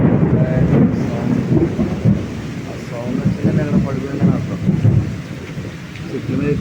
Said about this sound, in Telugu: ఉరుములతో కూడిన జల్లు